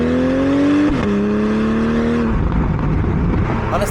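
2025 BMW M440i xDrive Coupe engine pulling hard under acceleration, a loud rising drone that climbs through a gear, shifts at about one second, climbs again, then drops to a rumbling lift-off as the revs fall, heard from inside the car.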